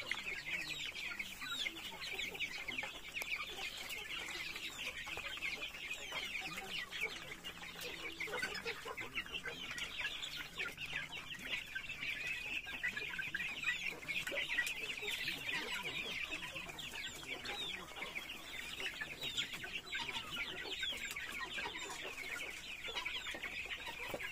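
Native Darag hens cluck steadily in a farmyard, a continuous chorus of soft clucks and chatter from several birds, fairly faint and close.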